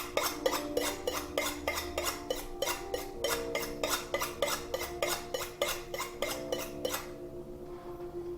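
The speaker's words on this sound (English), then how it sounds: "we got to make sure the knife is honed" A kitchen knife is drawn along a honing steel in about two dozen quick, evenly spaced metallic strokes with a ringing scrape, loud and close, ending abruptly before a quiet tail.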